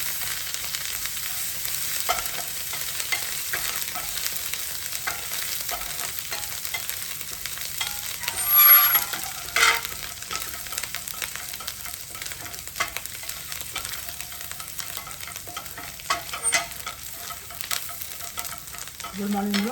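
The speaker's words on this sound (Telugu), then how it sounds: "అల్లం అయితే కొంచెం వేస్తున్నాను. ఇది బాగా ఫ్రై చేసుకుందాం." Shrimp and ginger sizzle steadily in a hot pan, a constant crackling fry with occasional scrapes and clinks as the mixture is stirred, close and continuous with no talking.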